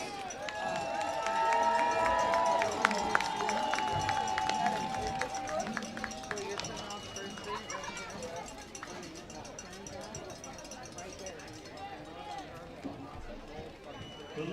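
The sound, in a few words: crowd cheering at a nacho eating contest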